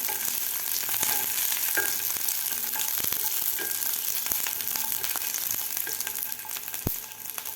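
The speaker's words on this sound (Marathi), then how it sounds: "आता लसूण आपल्याला हे गोल्डन होईल आपल्याला हे लसूण भाजून घ्यायचं आहे" Garlic roasts in oil in a pan toward golden, with a continuous close sizzle and crackle broken by a few sharp spoon clicks, no one speaking.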